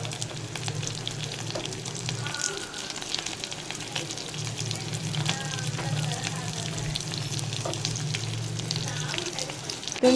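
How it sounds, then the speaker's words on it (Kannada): Leafy greens fry in hot oil with a continuous close sizzle and crackle, steady throughout with faint stirring scrapes and a low hum underneath. "ಎಣ್ಣೆನಲ್ಲಿ ಫ್ರೈ ಮಾಡ್ಕೋತಾ ಇದ್ದೀನಿ ನಾನು ಇದನ್ನು."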